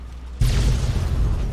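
A sudden deep boom from an explosion in Fallout 3 bursts out after a quiet moment, followed by a sustained low rumble.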